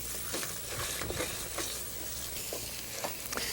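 Carrot halva, a traditional Indian sweet, is stirred in a pan, giving a faint, soft sizzle with repeated gentle scrapes and thuds of the spoon in an uneven rhythm, close by and without voices.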